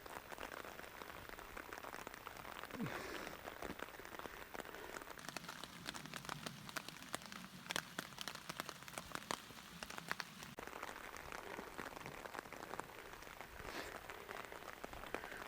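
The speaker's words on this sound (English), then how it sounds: "Well, we got us a summer rain," Summer rain pattering steadily on a poncho canopy at a lakeside camp, a dense, even patter of drops with occasional louder taps, constant throughout with no voices.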